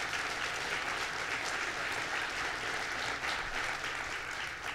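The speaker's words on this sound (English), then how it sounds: "Let's give them a round of applause." Audience applause at a governor's public announcement, a dense, steady burst of clapping from a crowd that fills the whole moment at a constant level.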